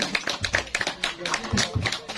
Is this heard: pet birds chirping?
no